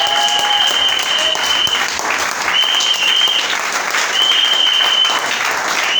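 A crowd claps in sustained, dense applause that carries on steadily throughout, with a few brief tonal sounds rising above it.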